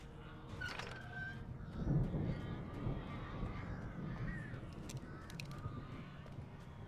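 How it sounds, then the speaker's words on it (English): Crows caw in the Alan Wake video game, with harsh calls rising over a murky ambient background and several more calls scattered later, mid-distance and fairly faint. "There's a lot of awful crowing."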